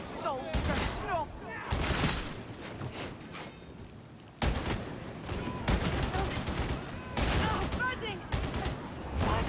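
Bolt gun firing in the Warhammer 40K Darktide video game, repeated heavy bursts of gunfire in uneven clusters amid combat clatter, with voices talking over the action.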